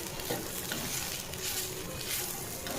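Chopped ivy gourd (kovakkai) sizzles and hisses in a hot pan while being stirred, a steady close frying crackle with soft scraping.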